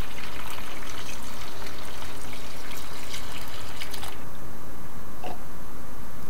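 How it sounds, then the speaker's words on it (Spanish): Chickpeas are rinsed under running tap water, a loud continuous splashing and trickling that stays close, changes in tone partway through and ends with a few brief drips. "vamos a ir enjuagando los garbanzos"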